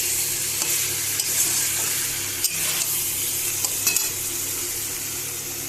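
Boiled potatoes that were fried earlier sizzle loudly and evenly in a pan, with occasional soft scrapes and taps from stirring. The sound is close and continuous, with no voices.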